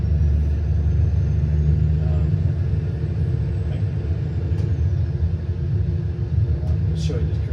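A truck engine in American Truck Simulator giving a loud, steady low rumble close by, holding a constant drone with a faint whine through the middle, while a voice talks over it.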